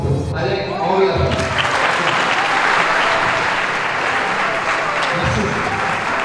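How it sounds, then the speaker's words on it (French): Seminar audience gives a thunderous round of applause for Alec Henry, loud dense clapping filling the room throughout after a voice at the very start. "Je vous donne un tonnerre d'applaudissements pour Alec Henry."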